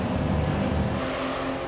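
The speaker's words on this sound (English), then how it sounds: "The thing basically sounds like an Alfa Romeo, I think. It's definitely got the same engine" An Alfa Romeo-style car engine in the racing video game Gran Turismo Concept on the Autumn Ring track, a loud steady droning hum that holds near-constant pitch for a moment.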